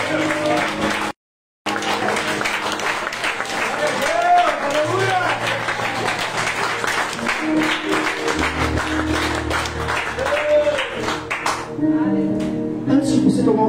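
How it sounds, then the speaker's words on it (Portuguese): A church congregation claps during worship, rhythmic applause blended with music and voices, steady throughout after a brief dropout near the start and thinning toward the end. "Aplauda Jesus."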